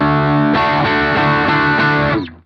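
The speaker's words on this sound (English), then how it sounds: "listen to the pedal with hi-fi on." Electric guitar played through a Stylus pedal in hi-fi mode: a sustained chord rings, then a steady strummed pattern with a warbling, distorted chorus-like shimmer, loud and alone, cutting off and fading at the end.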